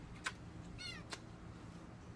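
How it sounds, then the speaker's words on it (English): A pet cat gives a couple of short, faint meows in a quiet room, the calls brief and separated by a pause, with no talk over them. "That's my cat."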